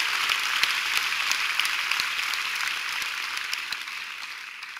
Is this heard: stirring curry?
no